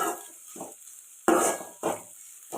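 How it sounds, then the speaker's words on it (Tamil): Pirandai (adamant creeper) being sautéed in a pan: a few separate spatula scrapes and pan knocks, close but sparse, with a faint sizzle between strokes. "கொஞ்சம் நல்லா வதங்குற மாதிரி இதை வதக்கி விடுங்க"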